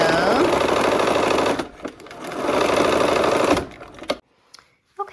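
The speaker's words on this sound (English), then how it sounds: "Okay, so I am connecting now this lower triangle, and we'll sew that on" Sewing machine stitching a lower triangle onto a Christmas quilt block: loud, close, rapid rattling run of about four seconds with a brief dip midway, stopping abruptly into near silence, with a short spoken word near the end.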